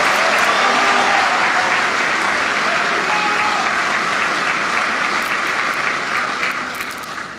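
A large audience at a governors' conference in the Democratic Republic of Congo applauds in a dense, sustained wash of clapping that stays loud throughout and begins to fade at the end.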